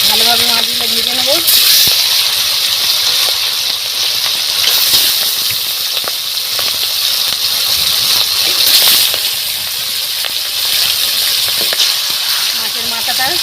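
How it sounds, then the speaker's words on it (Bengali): Golden fish pieces fry in hot oil for a Bengali-style curry, giving a loud, steady hiss and crackle that runs throughout. A faint voice-like tone rises briefly near the start and again at the end. "ভালোভাবে মাছগুলো ভেজে নেবো"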